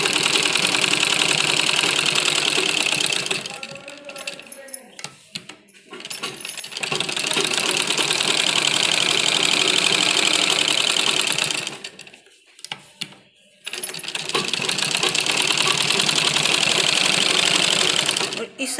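A sewing machine stitches the pocket of a men's kurta in long steady runs of rapid mechanical chatter, pausing twice briefly amid handling noise, close and loud.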